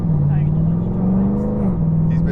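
A car rolls past up close with a steady low engine drone, loud throughout the short moment without any clear rise or fall.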